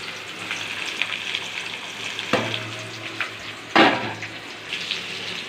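Fried bitter gourd tossed back into hot oil with slit green chilies, crackling sizzle with a couple of louder bursts as pieces hit the pan, close and steady.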